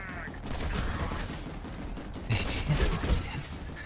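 Dense video game gunfire rattles almost continuously, a sustained fusillade of rapid shots with a louder burst near the end, mixed with other battle noise.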